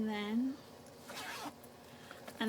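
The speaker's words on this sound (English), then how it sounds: "It's got this zipper pocket here, which I don't currently have anything in." A zipper pull on the pocket of a budget binder runs in a short rasping burst at close range, with someone talking around it.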